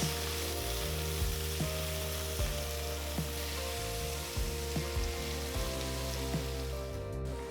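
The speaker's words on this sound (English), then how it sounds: "Also add a teaspoon of salt and continue to saute the tomatoes." Chopped tomato and onions sauteing in a pan with salt for an egg biryani masala: a steady close sizzle and crackle of frying, with periodic soft stirring knocks and no voices.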